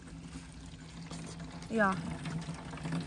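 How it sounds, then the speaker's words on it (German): Tap water pours in a steady hiss from an improvised water dispensing setup, with a brief gurgling burst midway as the flow surges; a voice speaks briefly over it. "Da kommt auch so ein Druck. Wahnsinn. Aber wir kriegen Wasser."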